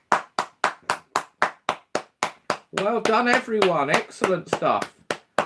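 Quiz night audience clapping in a steady, evenly spaced rhythm of sharp claps, followed by a voice talking and cheering as the claps thin out.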